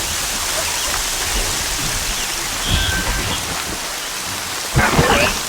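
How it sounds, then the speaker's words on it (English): Steady rain pours in the Horizon Zero Dawn game world, a constant hiss with a couple of low thunder rumbles swelling midway and near the end. "The rain."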